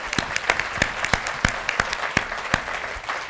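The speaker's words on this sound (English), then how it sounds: "Yes, let's give them all a round of applause." Audience applause at the Santa Monica Travel & Tourism Summit, heard as scattered, distinct claps from a modest crowd with a steady rhythm and a few sharp, loud hand claps standing out over about three seconds.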